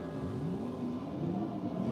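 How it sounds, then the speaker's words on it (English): Vehicle engines rev repeatedly outdoors, their pitch sweeping up and down over a steady, fairly loud motor roar that fills the whole stretch with no talking. "I can hear a load of revving up of vehicles"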